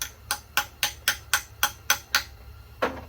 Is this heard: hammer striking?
yes